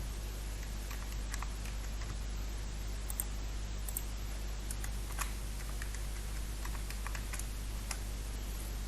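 Someone types a username and password on a computer keyboard at a login page, quiet irregular key clicks in short bursts over a low steady background hum.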